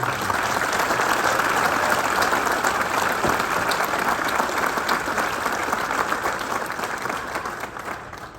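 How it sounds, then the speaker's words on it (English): A crowd applauds for the award recipients at the 2022 Burlington County Emergency Services Awards ceremony, a dense, steady round of clapping that holds loud for several seconds before tapering off near the end. "let's give a collective round of applause to all the recipients tonight"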